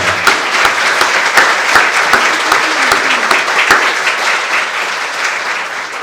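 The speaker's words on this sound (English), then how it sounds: "let's give a round of applause for Berkshire Bank." A luncheon audience at a women-in-leadership event gives a round of applause, steady and lively throughout, with a few sharper individual claps standing out near the microphone before it slowly eases.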